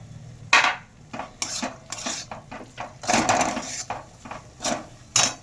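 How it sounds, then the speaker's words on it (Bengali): A spoon scrapes and clanks against a pan as green peas go into a mixed vegetable and paneer curry, irregular stirring knocks and scrapes close up, with no talk. "এরপরে দিয়ে দিচ্ছি কড়াইশুঁটি"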